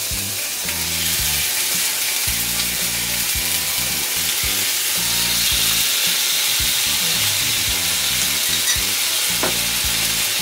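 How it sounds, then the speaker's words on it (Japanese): Food frying in a pan, a loud, steady sizzle held close throughout, with a few faint clinks and a low hum beneath, no speech. "でこれを焼いていきます。"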